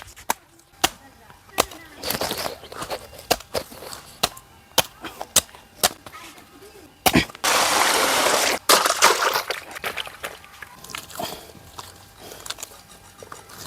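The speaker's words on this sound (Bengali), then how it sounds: "কলার ছড়ি থেকে কলার কান্দাগুলো কেটে নেব" A knife chops banana hands off a ripe bunch, giving a dozen or so sharp, separate cuts at an uneven pace, close and fairly loud, with a brief rough rustling burst midway and no talk.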